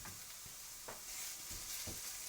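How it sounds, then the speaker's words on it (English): Chicken curry sizzling in a pan while being stirred, with a steady frying hiss and a few soft scraping strokes of the spoon, fairly quiet and without talk. "Give that a quick stir."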